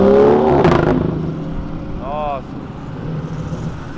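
Ford GT sports car accelerating past, a loud nearby engine roar that peaks early then fades as it moves away, with a voice speaking over it and another short tonal sound in the middle.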